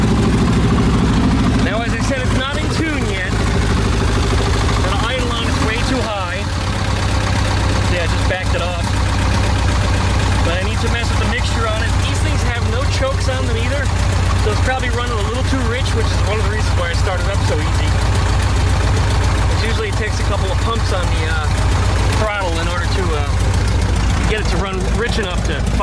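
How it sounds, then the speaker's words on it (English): A 1972 VW Beetle engine, not yet tuned, idles too high just after starting, with a loud, steady, close-up running drone. Someone talks over it. "Now, as I said, it's not in tune yet. The idle on is way too high."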